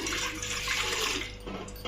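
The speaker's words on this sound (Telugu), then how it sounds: "ఒక గ్లాస్ వాటర్ పోసుకుందాం." Water pours steadily into an idli steamer pot with a rushing, splashing sound, nearby and fairly loud, briefly tapering before resuming.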